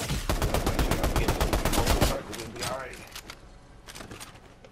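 Rapid bursts of automatic gunfire in Fortnite, loud and close for about two seconds, then scattered fainter shots, with people talking over them.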